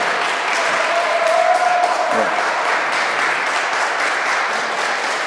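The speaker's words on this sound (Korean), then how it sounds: "정말 감사하다면 다시 한번 박수" A church congregation at a Saturday morning prayer meeting in Paris applauds steadily throughout, a dense wash of clapping, with a brief voice-like tone rising through it partway.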